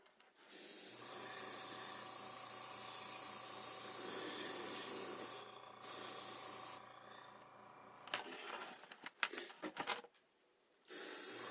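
Paint sprayed into the inside of a model's mouth gives a steady, fairly loud aerosol hiss lasting several seconds, then breaks into short bursts with light handling clatter and brief gaps.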